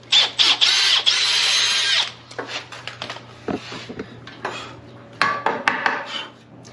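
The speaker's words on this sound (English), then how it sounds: "so that I can drill a hole in the block of wood" A power drill boring a hole through a block of wood, built up in loud bursts of high whine at the start, then scattered knocks, clatter and handling clicks, with more short drilling spurts near the end.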